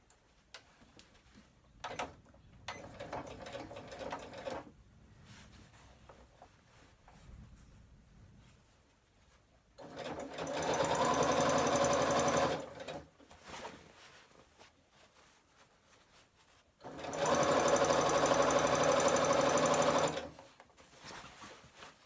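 A sewing machine topstitches around a bag in two sustained whirring bursts, close by, separated by quiet handling clicks and fabric rustle.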